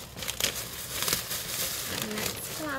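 A plastic bag holding a brightening soap being opened and handled, giving scattered crinkling and rustling bursts close to the mic, with a brief higher squeak near the end.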